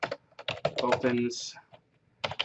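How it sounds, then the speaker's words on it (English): Rapid clicking of keys typing on a computer keyboard during a product-launch web page setup, close and clear, bracketed by a person talking before and after. "You just want to type something simple like"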